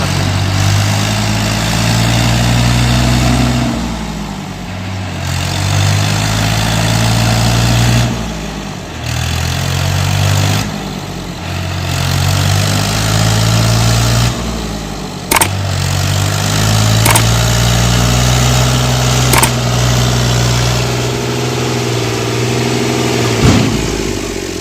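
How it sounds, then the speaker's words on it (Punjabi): A tractor pulling a loaded trolley of cotton sticks runs steadily at a rough idle, its loud low engine throb dipping and rising in repeated cycles, with a few sharp clicks near the end. "ਟਰੈਕਟਰ ਨੂੰ ਖਿੱਚ ਲੈਣੀਆਂ ਨੇ"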